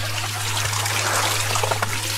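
Small forest waterfall at a temple among huge ferns, stone and moss, giving a close, steady trickling and splashing with a constant low hum beneath it.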